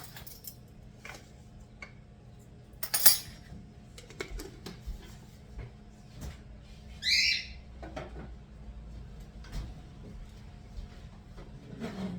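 A fork mixing biscuit dough in a bowl: scattered soft scraping and tapping strokes with a few sharper clinks of metal against the bowl, close and irregular, with no talking.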